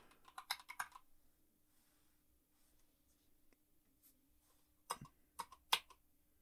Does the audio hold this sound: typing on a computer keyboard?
yes